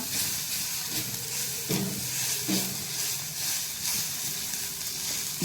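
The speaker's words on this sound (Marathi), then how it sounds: "छान असं व्यवस्थित परतून घेऊया" Spices with garam masala powder and turmeric sizzle and hiss steadily in a pan for masala okra over a medium flame, with a few soft stirring knocks.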